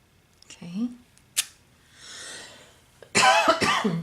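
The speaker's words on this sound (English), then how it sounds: "I've got a little bit of a cough with my allergies." A woman with allergies coughs a few times, short close bursts mixed with some quiet speech and faint paper-crafting sounds while she makes a handmade card, ending in a louder, harsher coughing fit.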